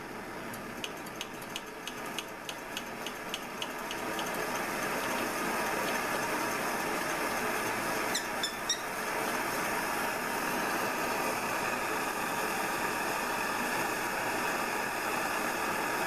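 Coleman 530 G.I. pocket stove burning throttled back: a steady, even hiss that carries on after a few light ticks near the start, fairly close and alone.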